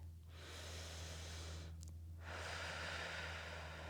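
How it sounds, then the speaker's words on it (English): Deep breath taken during a full-body stretching exercise, a long close inhale followed by a slow exhale over a low steady background hum. "Big breath."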